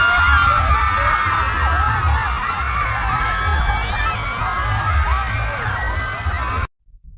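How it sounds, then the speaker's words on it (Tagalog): A large crowd screams and cheers loudly and continuously for the celebrity Kimmy, a dense roar of many voices with low thumping underneath, cutting off abruptly near the end. "Grabe yung hiyawan ng mga tao, no?"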